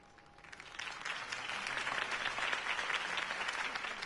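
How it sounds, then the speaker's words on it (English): Crowd applause from an in-game political rally in the Batman Telltale video game, a broad steady wash of clapping that swells after a brief quiet start and holds loud to the end. "If only Mr. Wayne, my campaign's largest backer, could have heard that applause"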